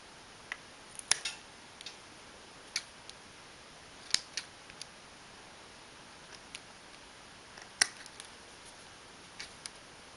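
A toothpick being snipped to length, heard as sparse, sharp little clicks spaced irregularly against a faint steady hiss, quiet and close with no talk.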